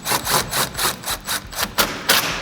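A 3/8 impact gun with a 10mm socket hammers plastic grille bolts tight on a 2013-2018 RAM 1500, giving loud, close rattling bursts in a rapid pulsing rhythm, several short runs back to back with no talking.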